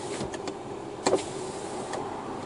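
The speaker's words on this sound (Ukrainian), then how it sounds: "Давайте я закрию вікно, зараз відкрию" An electric power window on a car runs briefly, a short motor whir heard close, with a faint mechanical click midway and quiet cabin noise around it.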